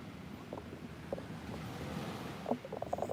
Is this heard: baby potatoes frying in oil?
no